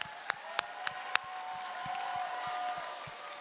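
An audience at a Saturday night youth conference applauds youth directors. A few sharp, distinct claps come at the start, followed by a thin, steady patter of clapping with faint crowd noise underneath.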